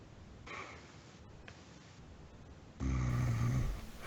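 Snoring comes through an online voice call during a tabletop role-playing session: a muffled hiss of line noise, then one louder, rough, rumbling snore lasting about a second, compressed and close.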